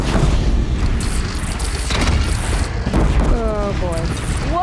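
A bridge blown up in Horizon Zero Dawn: a deep rumbling boom with debris crashing and tumbling, loud and sustained, while voices speak over the tail end.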